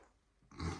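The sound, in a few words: child imitating a dog growling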